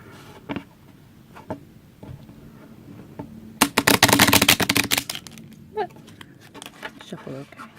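A deck of Lenormand cards riffle-shuffled in a quick burst of rapid flutters, with a few soft taps and handling sounds before and after.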